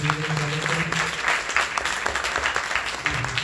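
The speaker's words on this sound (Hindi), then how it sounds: "तो जोरदार तालियों से उनका" A crowd at an Arya Samaj annual celebration gives a sustained round of loud applause, a dense, continuous clatter of many hands with a low hum beneath.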